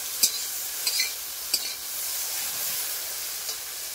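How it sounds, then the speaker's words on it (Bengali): Okra fries in a pan with a soft continuous sizzle, broken by a few sharp clinks and scrapes of stirring, close and moderately quiet. "তাই আমি একটু ভেজে নেবো ঢেঁড়সটাকে"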